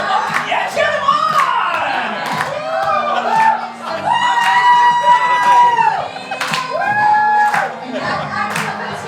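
A close crowd cheers the Do-Gooders on with loud whoops, high shrill yells and sustained hollering in waves, mixed with scattered clapping and shouting voices.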